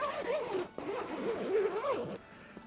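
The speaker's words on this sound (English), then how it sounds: "Zipping it up and closing it," The zipper of a SaunaBox portable sauna is pulled closed in several quick, rasping strokes close to the microphone.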